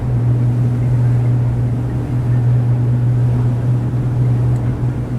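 A Sunseeker Predator 55 Evo motor yacht with D11725 engines runs hard at about 36 knots, its deep, steady engine drone loud and constant beneath rushing wind and water noise, with no talk.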